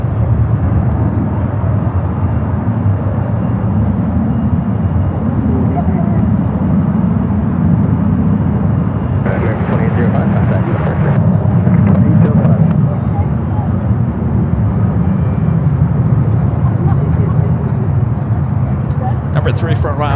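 An aircraft on approach to San Francisco airport, unseen but clearly heard: a low, continuous engine rumble swelling slightly in the middle, with a voice talking over it at times.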